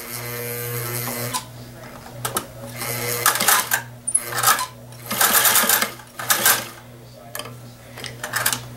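A sewing machine runs in close, loud bursts as it back stitches and forward stitches a seam on a stuff sack, starting and stopping with brief pauses in between.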